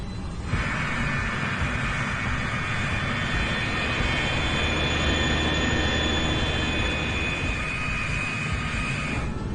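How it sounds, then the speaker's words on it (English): An airliner taxiing to the runway makes a steady, loud engine whine and roar that holds without a break, with no talking. "As they taxi to the runway, the pilots conduct a series of flight control checks."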